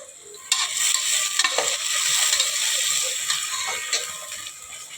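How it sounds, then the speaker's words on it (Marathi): Khichdi ingredients sautéed in a hot pan, with steady sizzling and the scrape and clatter of a spatula stirring, close and fairly loud with no talking. "हे बघा मी असं परतून घेते आता."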